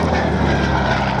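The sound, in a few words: propeller aircraft flying at an air show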